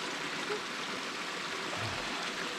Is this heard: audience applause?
no